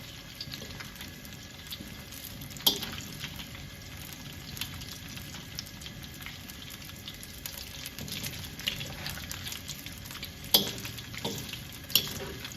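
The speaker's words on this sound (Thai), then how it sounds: "ต่อมานะคะเราก็จะมาทอดพริกชี้ฟ้าแห้งค่ะ" Dried red chilies frying briefly in oil for stir-fried chicken with cashew nuts, a steady close sizzle with a few sharper crackles and clinks scattered through it.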